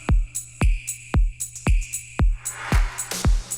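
Tropical house drum pattern: punchy, deep kicks thumping at a steady pace with crisp clicky percussion and bright snare hits layered on top, loud and close with no voices.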